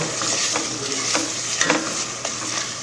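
Tomato sauce sizzles in a frying pan while a utensil stirs it, a steady close fry with several soft scraping strokes and no talking.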